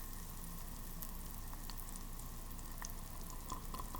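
Tofu frying in a mix of oil and butter gives a steady, even sizzle with light crackles and pops, close and continuous with no talk.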